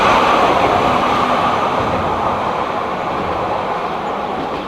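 A train rumbles past in George Town, Penang, a loud, steady broadband roar of wheels and carriages that fades slightly toward the end, with no voices over it.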